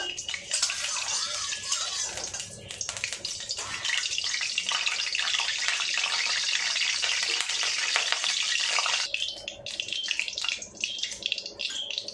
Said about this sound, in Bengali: কড়াই আমি সর্ষের তেল দিয়ে দিচ্ছি, মাছটা ভাজবো সেই জন্য।